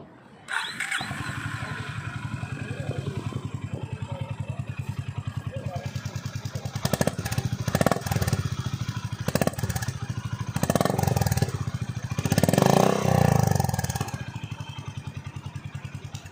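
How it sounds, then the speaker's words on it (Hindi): A 2020 Honda Highness CB350 motorcycle sits running, its exhaust putting out a steady low thumping idle with a few brief revs. A voice talks faintly over parts of it. "सबसे पहले आप सुन लीजिए होंडा हाईनेस के साउंड"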